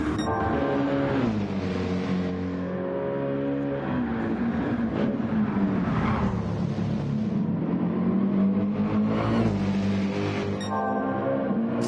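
A Mercedes GTE race car engine drones loudly through a racing sim, pitch rising and falling as it shifts gears and works through corners, continuous with no voices.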